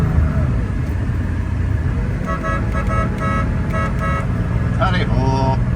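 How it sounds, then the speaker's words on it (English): A horn on a 1985 Porsche 911 Turbo-look coupe gives a few short toots near the end, over a steady engine and road rumble inside the car. "It's got a nice little Porsche horn button."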